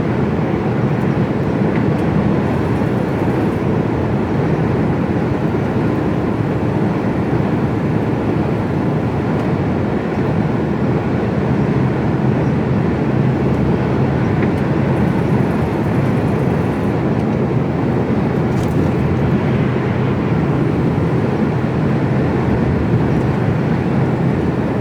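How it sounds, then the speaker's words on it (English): Container train rolling past a truck in the UK, heard as a loud, continuous rumbling roar that holds steady throughout, with no talking. "there's a container train"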